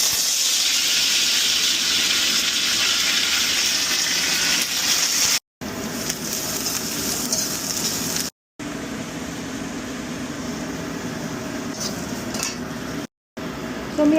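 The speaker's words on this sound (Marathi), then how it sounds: "आता फोडणी देते." Spices tempering in hot oil for a phodni in a home kitchen, with a steady, bright sizzle and hiss that runs almost unbroken, close and fairly loud, with faint clinks of utensils.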